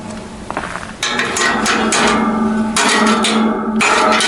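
A hammer strikes a metal hay rake part during restoration work, with sharp ringing blows in irregular clusters close by.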